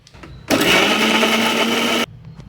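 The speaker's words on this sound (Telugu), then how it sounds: "ఇప్పుడు ఒక మిక్సీ జార్ తీసుకొని దాంట్లో ఉల్లిపాయలు అల్లం చిన్నులపాయ టమాటాలు మొత్తం మెత్తగా పేస్ట్ చేసేసుకుందాం" A mixer grinder blends onion, ginger, garlic and tomato into a paste, starting abruptly with a loud, steady whirring roar for about a second and a half, then cutting off sharply, with no speech over it.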